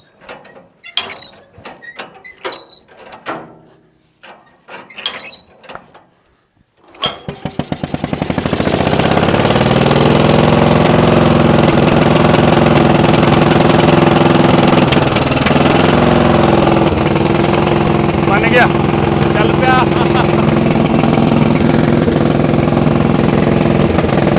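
Scattered clicks and clanks give way to the engine of a 1953-model tank, kept in a forest, roaring to life and running at a loud, steady idle close by for the rest of the time.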